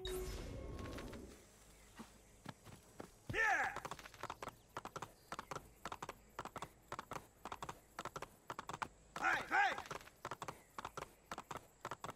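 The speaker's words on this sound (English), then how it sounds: "Pretty sure there's a horse over here." Horse hooves clip-clopping in the Renaissance-era video game Assassin's Creed II, a steady rhythmic trot of hoofbeats with a couple of whinnies, faint and close, with speech at low level.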